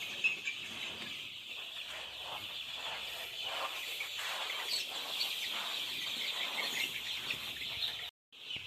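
A large crowd of 15-day-old Sonali chicken chicks chirps continuously throughout a farm house, a dense, high-pitched chorus of peeping that cuts out briefly near the end.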